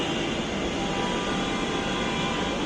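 A metro train stalled with a faulty door, its carriage filling the air with a steady, loud rumbling drone and hiss from wheels and machinery, with no voices.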